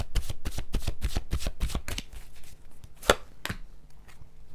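A deck of oracle cards is shuffled by hand in quick riffling bursts, several rapid flutters followed by a few sparser slaps, close and fairly quiet with no talk.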